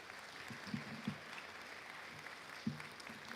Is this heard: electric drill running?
no